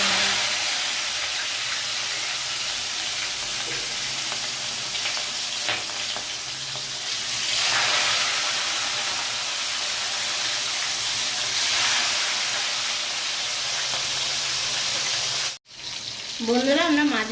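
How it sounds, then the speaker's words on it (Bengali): Bhetki fish, from a 3.5 kg fish, frying in hot mustard oil gives a steady, loud crackling sizzle with surging hissy swells. The sizzle cuts out briefly near the end before a short voiced sound over renewed frying. "ভেটকি মাছগুলো আমরা এবার তেলে ভেজে নেব"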